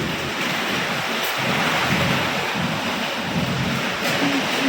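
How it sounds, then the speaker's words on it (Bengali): Water falling heavily, a loud, continuous broadband rush that sounds much like pouring rain or cascading water, steady for the whole stretch with no clear speech. "জল পড়ছে"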